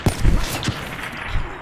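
Video game gunfire in quick bursts, several sharp shots in succession at close range within a short span.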